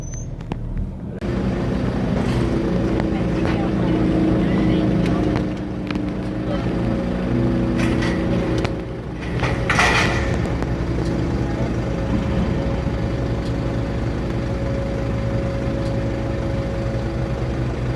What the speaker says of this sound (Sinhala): කේබල් එක මේ පැත්තට ඇදලා එහා පැත්තට ගෙන ඉන්නකොට ඉබේම මේ ෆෙරි එක යනවා.